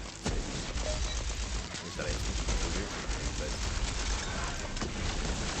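Rapid, sustained gunfire in Tiny Tina's Wonderlands, a dense stream of shots rattling on steadily at moderate level with no pause.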